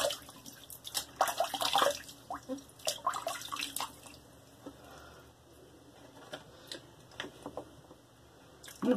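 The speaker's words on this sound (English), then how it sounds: "Let's wet the face." Close water splashing as hands cup water from a sink and wet the face before a shave, irregular bursts of splashes and drips with quieter trickling pauses between.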